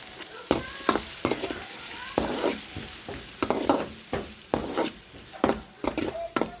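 Tomato pieces sizzle in a pan while being cooked for Maggi noodles, a constant frying hiss broken by repeated sharp scrapes and knocks of a spoon stirring against the pan.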